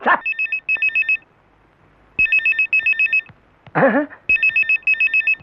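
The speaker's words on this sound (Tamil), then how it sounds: "எவ்வளவு நேரமா ரிங் அடிக்குது ஒரு போன் எடுக்க நாதி இல்லப்பா அந்த வீட்டுல" A telephone ringing indoors, loud and close, in repeated pairs of electronic trilling bursts separated by short pauses, with a brief voice-like sound between rings.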